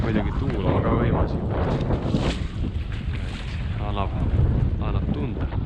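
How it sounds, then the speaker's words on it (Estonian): Strong wind gusts on a lake, with steady broadband rushing noise buffeting the microphone and water sounds beneath, while people talk intermittently throughout. "Muidugi tuul on ka võimas."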